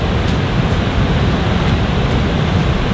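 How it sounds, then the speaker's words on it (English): Gurara waterfall in Niger State, Nigeria, roaring as a dense, steady wash of falling water that fills the whole stretch loudly and evenly, close by and without voices. "So we just currently arrived at the Niagara waterfalls"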